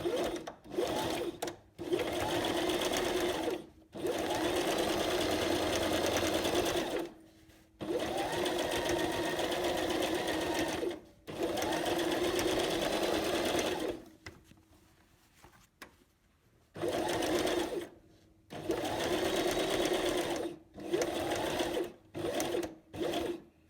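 A sewing machine runs a straight stitch along a fly-front zipper through two layers of fabric, whirring steadily in several long, loud bursts separated by brief pauses.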